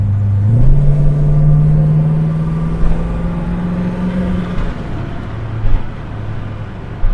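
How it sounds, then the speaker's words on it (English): A Ford Falcon XD 4.9 V8's automatic transmission kicks down a gear and surges into a deep, loud rising roar, then settles into a steadier rumble as the acceleration eases off. "Smooth kick down."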